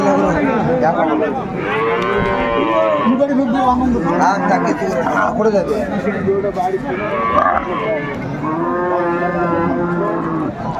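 At a cattle market, a cow with her calf lets out repeated long, drawn-out moos, several calls in a row, amid steady chatter of people and other livestock nearby.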